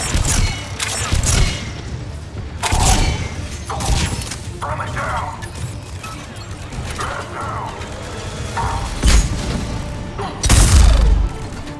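Turret fire in Mass Effect 3 comes as repeated loud bursts of heavy mechanical shots in clusters, mixed with clanking and impacts, while a voice talks over the action.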